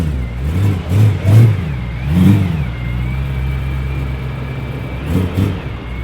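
A BMW M3 engine revs while driving, with several surging throttle blips rising and falling in pitch over a steady mid-range engine drone heard from inside the car.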